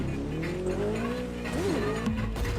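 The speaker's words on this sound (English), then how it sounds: "when you hear the boom, when you hear that bike going" Motorbike engine in the video game The Crew 2 revving hard during a wheelie, a steady loud drone with rising and falling pitch swells, alongside tire-squeal-like tones and no talking.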